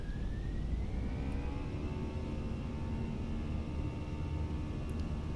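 Airliner engines spool up to takeoff/go-around thrust in a flight simulator during a monsoon approach to Calicut, India, a steady loud roar with a rising whine that climbs and holds throughout.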